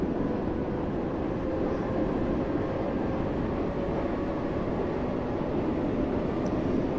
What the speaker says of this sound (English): of the train going over the joins when it goes over first